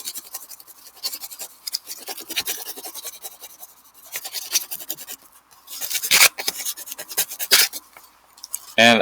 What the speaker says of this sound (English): I'm going to use my rubbing tool again, either my spoon or my scissors, and I'm going to rub